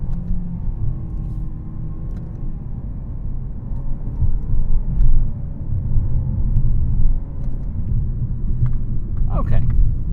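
A 2022 Nissan Rogue Sport in sport mode with manual shifting pulls uphill from a rolling start. Its engine gives a steady low rumble that builds gradually under a person talking throughout.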